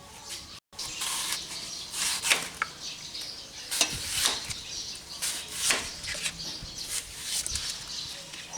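Red delicious apples, soft and close to rotting, being peeled and sliced by hand, giving a steady run of close scraping and rasping strokes with occasional sharper cuts, no talking.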